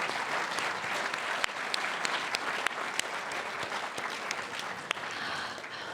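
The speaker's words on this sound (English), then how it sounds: "Everyone give the candidates a big round of applause." An audience applauds candidates at an event, a steady wash of many hands clapping for several seconds, fairly even in loudness, with a few sharper individual claps standing out and no talking.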